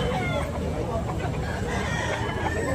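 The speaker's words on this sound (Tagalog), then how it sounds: "Magagandang manok." Roosters and chickens from Carcar at a Tabunok market cluck and crow in a dense, continuous clamour, several birds overlapping close by with steady crowd noise beneath.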